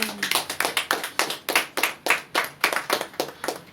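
A church congregation claps loudly and steadily together, about three claps per second, with a dense, rhythmic run of sharp hand claps filling the space during worship.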